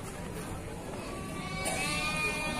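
Sheep bleating at the Cilongok goat and sheep market in Banyumas, Central Java, heard as a short bleat over busy crowd murmur and general market noise.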